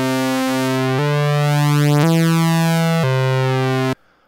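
A pure electronic sine tone steps through four pitches, holding each about a second, steady and loud, then cuts off abruptly.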